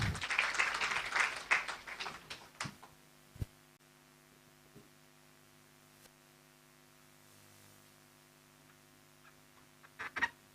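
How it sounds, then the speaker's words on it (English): A conference audience gives a short round of applause at the start, fading within a few seconds into a quiet room with a steady electrical hum and a few scattered thumps and noises. "Let's clap for her as she takes the stage."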